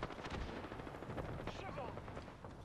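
Gunfire in the video game Apex Legends arrives as dense, rapid bursts of shots layered over game sound effects, steady and fairly loud from start to finish.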